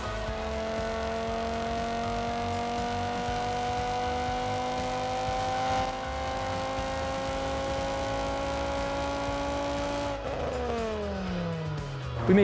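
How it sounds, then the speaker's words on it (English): Tuned Volvo 850 engine revving hard on a dyno during a power run, its pitch climbing steadily for about ten seconds before the throttle drops and the revs fall away, loud and close. "we'll start the car up, warm it up on the dyno bit, and do a power run with the tune file 1"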